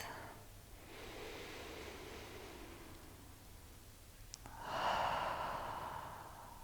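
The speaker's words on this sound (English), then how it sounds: "Breathe your natural breath." Slow natural breathing during a Pilates breathwork session, a soft airy inhale and exhale close to the mic, with a fuller breath rising near the end and no talk over it.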